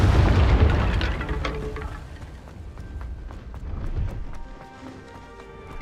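In Hogwarts Legacy, a Confringo fire blast spell bursts with a loud, low boom and rumbling crackle that fades over several seconds amid ambient game noise.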